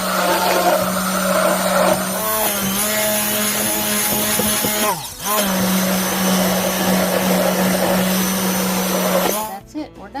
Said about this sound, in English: I use this emulsion blender and we whip it up.